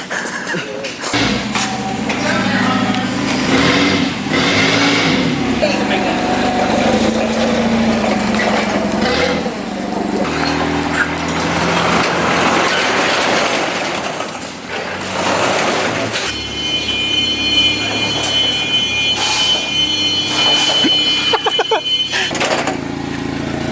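A Jeep does burnouts, its engine roaring loudly and steadily with rising and falling revs and broadband tire noise throughout, while people talk over it.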